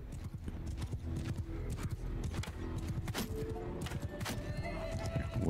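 Horses galloping and neighing in the video game Mount & Blade II: Bannerlord, rapid overlapping hoofbeats with repeated whinnies and scattered sharp impacts, busy and close.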